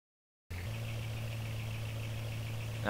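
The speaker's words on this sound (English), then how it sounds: "Now this car is really loud," Loud car engine in BeamNG.drive idling with a steady low drone and faint whine, starting abruptly after a brief silence and holding constant, rising slightly at the end.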